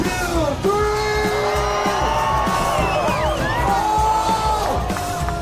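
A large crowd screams, cheers and whoops loudly and steadily at a live BMX, skateboarding and in-line skating show, with yells rising and falling throughout.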